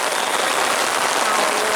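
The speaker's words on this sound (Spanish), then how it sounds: "Granizo, ¿eh?" Dense, steady hiss of hail pelting down outdoors at a football match, a broad wash of pattering impacts with no pauses, loud and close.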